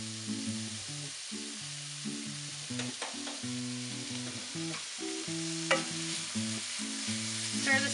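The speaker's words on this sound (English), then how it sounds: "I'm going to let that cook for a few minutes just to heat up the seitan" Seitan heating in a pan gives a steady, fairly quiet sizzle with a few faint utensil taps, while soft background music plays throughout.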